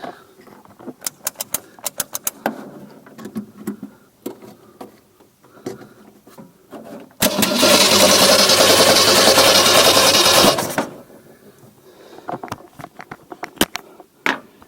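A 1964 Mercury Comet engine cranks in one loud, steady burst of about three and a half seconds, set between scattered clicks and tapping from work on the car.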